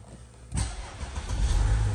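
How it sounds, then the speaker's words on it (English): A 2010 Audi A6 Allroad 3.0 TDI diesel is cranked and fires at about half a second, then settles into a steady, close, loud idle rumble with no voices. "I'm just going to crack the vehicle up so you can hear it start"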